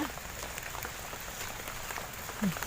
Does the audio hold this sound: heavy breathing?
no